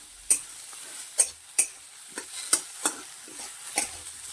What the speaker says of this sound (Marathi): थोडीशी कोथिंबीर ही आपल्या त्यात परतून घ्यायची आहे